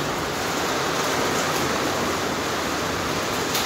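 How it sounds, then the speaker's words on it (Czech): Light rain falling on a building site for a self-built container house, a dense, even hiss with no breaks, close and steady, with no talking. "Troška nám prší, no."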